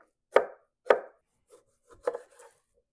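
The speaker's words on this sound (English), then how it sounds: "I'm gonna go ahead and chop off some jalapeno while I'm at it." A knife chops fresh jalapeno on a board in a few crisp, close taps, two strong cuts followed by lighter, scattered ones, with no talking.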